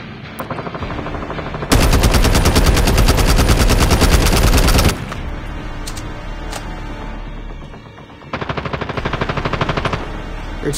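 PBW gun in a video game firing loud, fast automatic bursts: one long sustained volley in the middle, then shorter bursts toward the end, with the gunfire standing alone and no talk over it.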